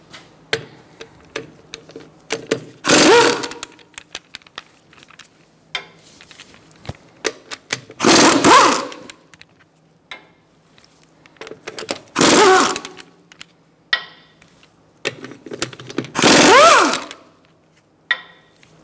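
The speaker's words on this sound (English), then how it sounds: "Using a 17mm socket, we're going to remove our wheel fasteners." Power tool with a 17mm socket removing the wheel fasteners on a 2012-2019 Fiat 500, four loud, close bursts of rattling impact driving about four seconds apart, with lighter clicks and handling noise between and no talk.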